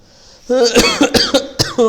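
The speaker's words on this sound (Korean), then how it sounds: "기침이 나네" A few harsh, close coughs in quick succession, sharp bursts with short gaps between them.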